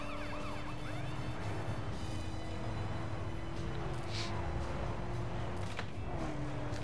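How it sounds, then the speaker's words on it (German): Ambulance siren in the driving game The Crew near Miami, a faint wailing tone sweeping steadily through the background beneath a continuous engine and road rumble. "Ist aber nur der Krankenwagen."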